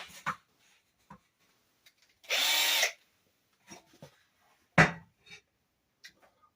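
A power drill drives a Torx head screw into a bathroom vanity in one short whirring burst, surrounded by scattered clicks, taps and handling knocks in a quiet room.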